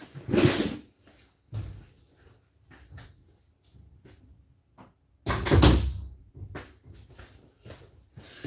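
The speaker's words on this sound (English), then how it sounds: "Let me close my door real quick." Door being closed in a construction office, two loud thumping bangs separated by several seconds with softer knocks and rattles between, close to the microphone.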